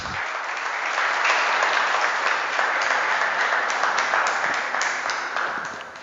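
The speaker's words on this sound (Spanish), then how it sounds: "Denle un aplauso al Rey de Reyes." A church congregation claps together in a warm, steady burst that swells up in the first second, holds evenly, and tapers slightly at the end, with no one speaking over it.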